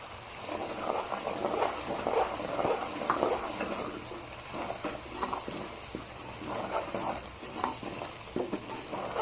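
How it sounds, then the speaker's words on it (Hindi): Spices such as red chilli and turmeric being stir-fried in a pan for kadhi pakora, a steady sizzle with repeated scraping strokes of a spoon against the pan, close and continuous with no talk. "इसे हम अच्छी तरीके से भून लेंगे।"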